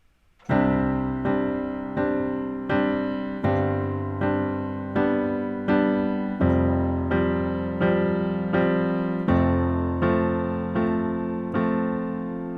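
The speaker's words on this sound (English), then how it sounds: "Let's take a basic chord progression with 4 beats per bar." Piano chords struck on a steady four-beat pulse, each chord ringing and decaying before the next, the harmony shifting every bar.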